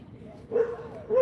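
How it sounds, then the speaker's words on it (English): A dog barks nearby, two or three short muffled woofs in quick succession, fairly faint against a quiet indoor background. "there's a dog barking 3 times"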